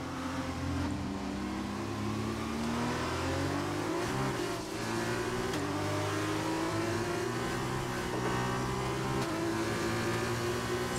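A Formula 1 car in F1 2021 drives at Silverstone in the rain, its high-pitched engine whine rising steadily as it accelerates and staying loud and continuous throughout.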